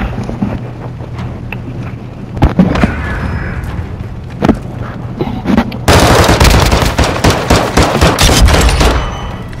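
SMG fire in Modern Warfare II, scattered sharp gunshots and short bursts up close, then dense rapid automatic fire over steady wind-like rumble.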